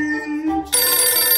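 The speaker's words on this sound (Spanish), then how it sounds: "¿En serio me tienen que llamar por teléfono ahora?" Telephone ringtone bursting in loudly after a brief musical tone, a bright sustained ringing that fills the short moment at home.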